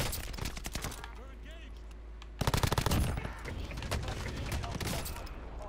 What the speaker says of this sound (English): I was getting shot at